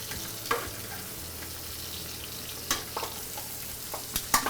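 Monkfish browns in a hot pan with a steady, quiet sizzle and a few soft clicks and stirring knocks, with no talk.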